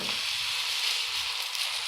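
Egg omelette batter sizzling on a hot tava, a steady bright frying hiss that holds evenly throughout, close and moderately loud with no talking.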